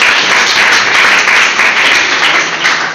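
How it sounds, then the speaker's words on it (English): An audience applauds a debate team at a school English debate competition, with steady, dense clapping that fills the room evenly and continues for the full stretch. "Give a clap for them."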